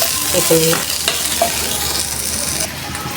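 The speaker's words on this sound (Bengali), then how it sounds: "আলু ভাজা, গোস্ত ভাজা।" Potatoes and meat frying together in a pan, a constant close sizzle with intermittent scrapes of a spoon stirring and a few faint clinks.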